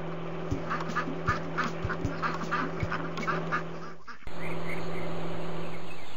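Cartoon baby ducks quack in a quick flurry of short, bright calls over a steady hum and low thumps, then the quacking stops and a flat electronic tone takes over near the end.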